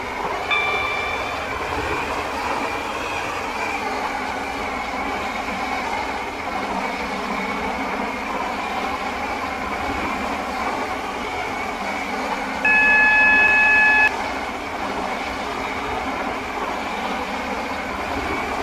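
A Class 345 Airlink shuttle train in the game SCR runs steadily with a continuous rumbling, whooshing drone, and a brief electronic tone sounds midway through; no voices.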